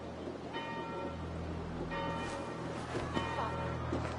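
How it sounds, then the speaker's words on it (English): Church bells toll steadily in a video game scene, their ringing tones repeating in a slow rhythm beneath a low ambient drone, moderately loud and with no one speaking. "Do you not hear the bells?"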